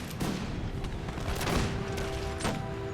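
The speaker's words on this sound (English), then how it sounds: "Open fire! Somewhat in slow motion, but open fire!" Musket volley from massed line infantry in an American Revolution strategy game battle, a dense crackling burst of overlapping shots with sharp reports near the start, middle and end over a steady rumbling battle din.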